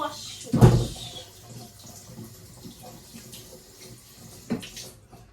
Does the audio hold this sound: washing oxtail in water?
yes